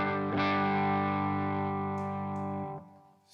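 An electric guitar through a Klon-style overdrive pedal, a single strummed chord ringing out loud and sustained with a driven, harmonically rich tone before being cut off, with no voices.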